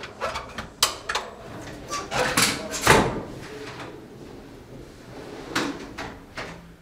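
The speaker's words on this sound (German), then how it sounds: "Dann die Schubladen." Bathroom vanity drawers are slid open and shut several times, giving sharp close thuds and rolling slides at uneven intervals during installation. One loud clunk stands out near the middle, with no talk.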